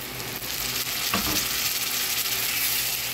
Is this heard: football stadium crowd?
no